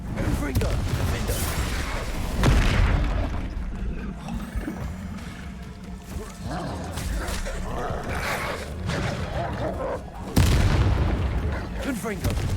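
Fiery Confringo spell blasts in the Hogwarts Legacy video game, booming explosions punching out at the start and again near the end over a dense, continuous bed of game sound and music.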